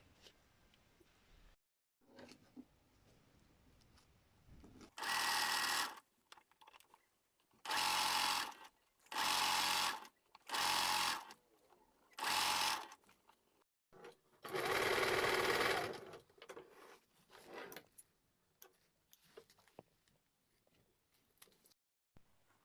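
A sewing machine stitches a fabric organizer, sewing the second seam beside a zipper. It runs in six loud, steady bursts of a few seconds each, separated by quiet pauses and small handling noises.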